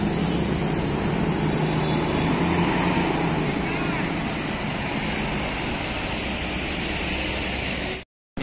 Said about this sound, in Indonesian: Disusul oleh Mekar Jaya Utama.